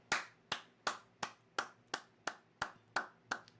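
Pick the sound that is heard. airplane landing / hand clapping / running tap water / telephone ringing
hand clapping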